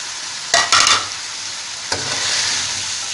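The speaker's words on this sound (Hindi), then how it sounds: "अब हम इसमें वो गोश्त डाल रहे हैं जो हमने ये गला के रखा हुआ था" Pre-cooked tender mutton is dropped into a hot karahi for mutton achari karahi, with a few sharp thuds and clatters followed by a rising, steady sizzle close by and no talk.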